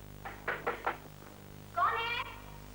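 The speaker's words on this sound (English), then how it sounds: "he knocks at the door" Three quick, close knocks at a door, followed a moment later by a cat's meow, with quiet room hum in the background.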